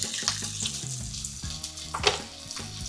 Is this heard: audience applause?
no